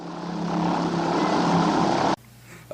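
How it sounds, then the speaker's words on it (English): A propeller airplane drones loud and close as it arrives over the jungle, a sustained engine roar that cuts off abruptly near the end. "Soon enough, Dr. Monroe arrives by plane."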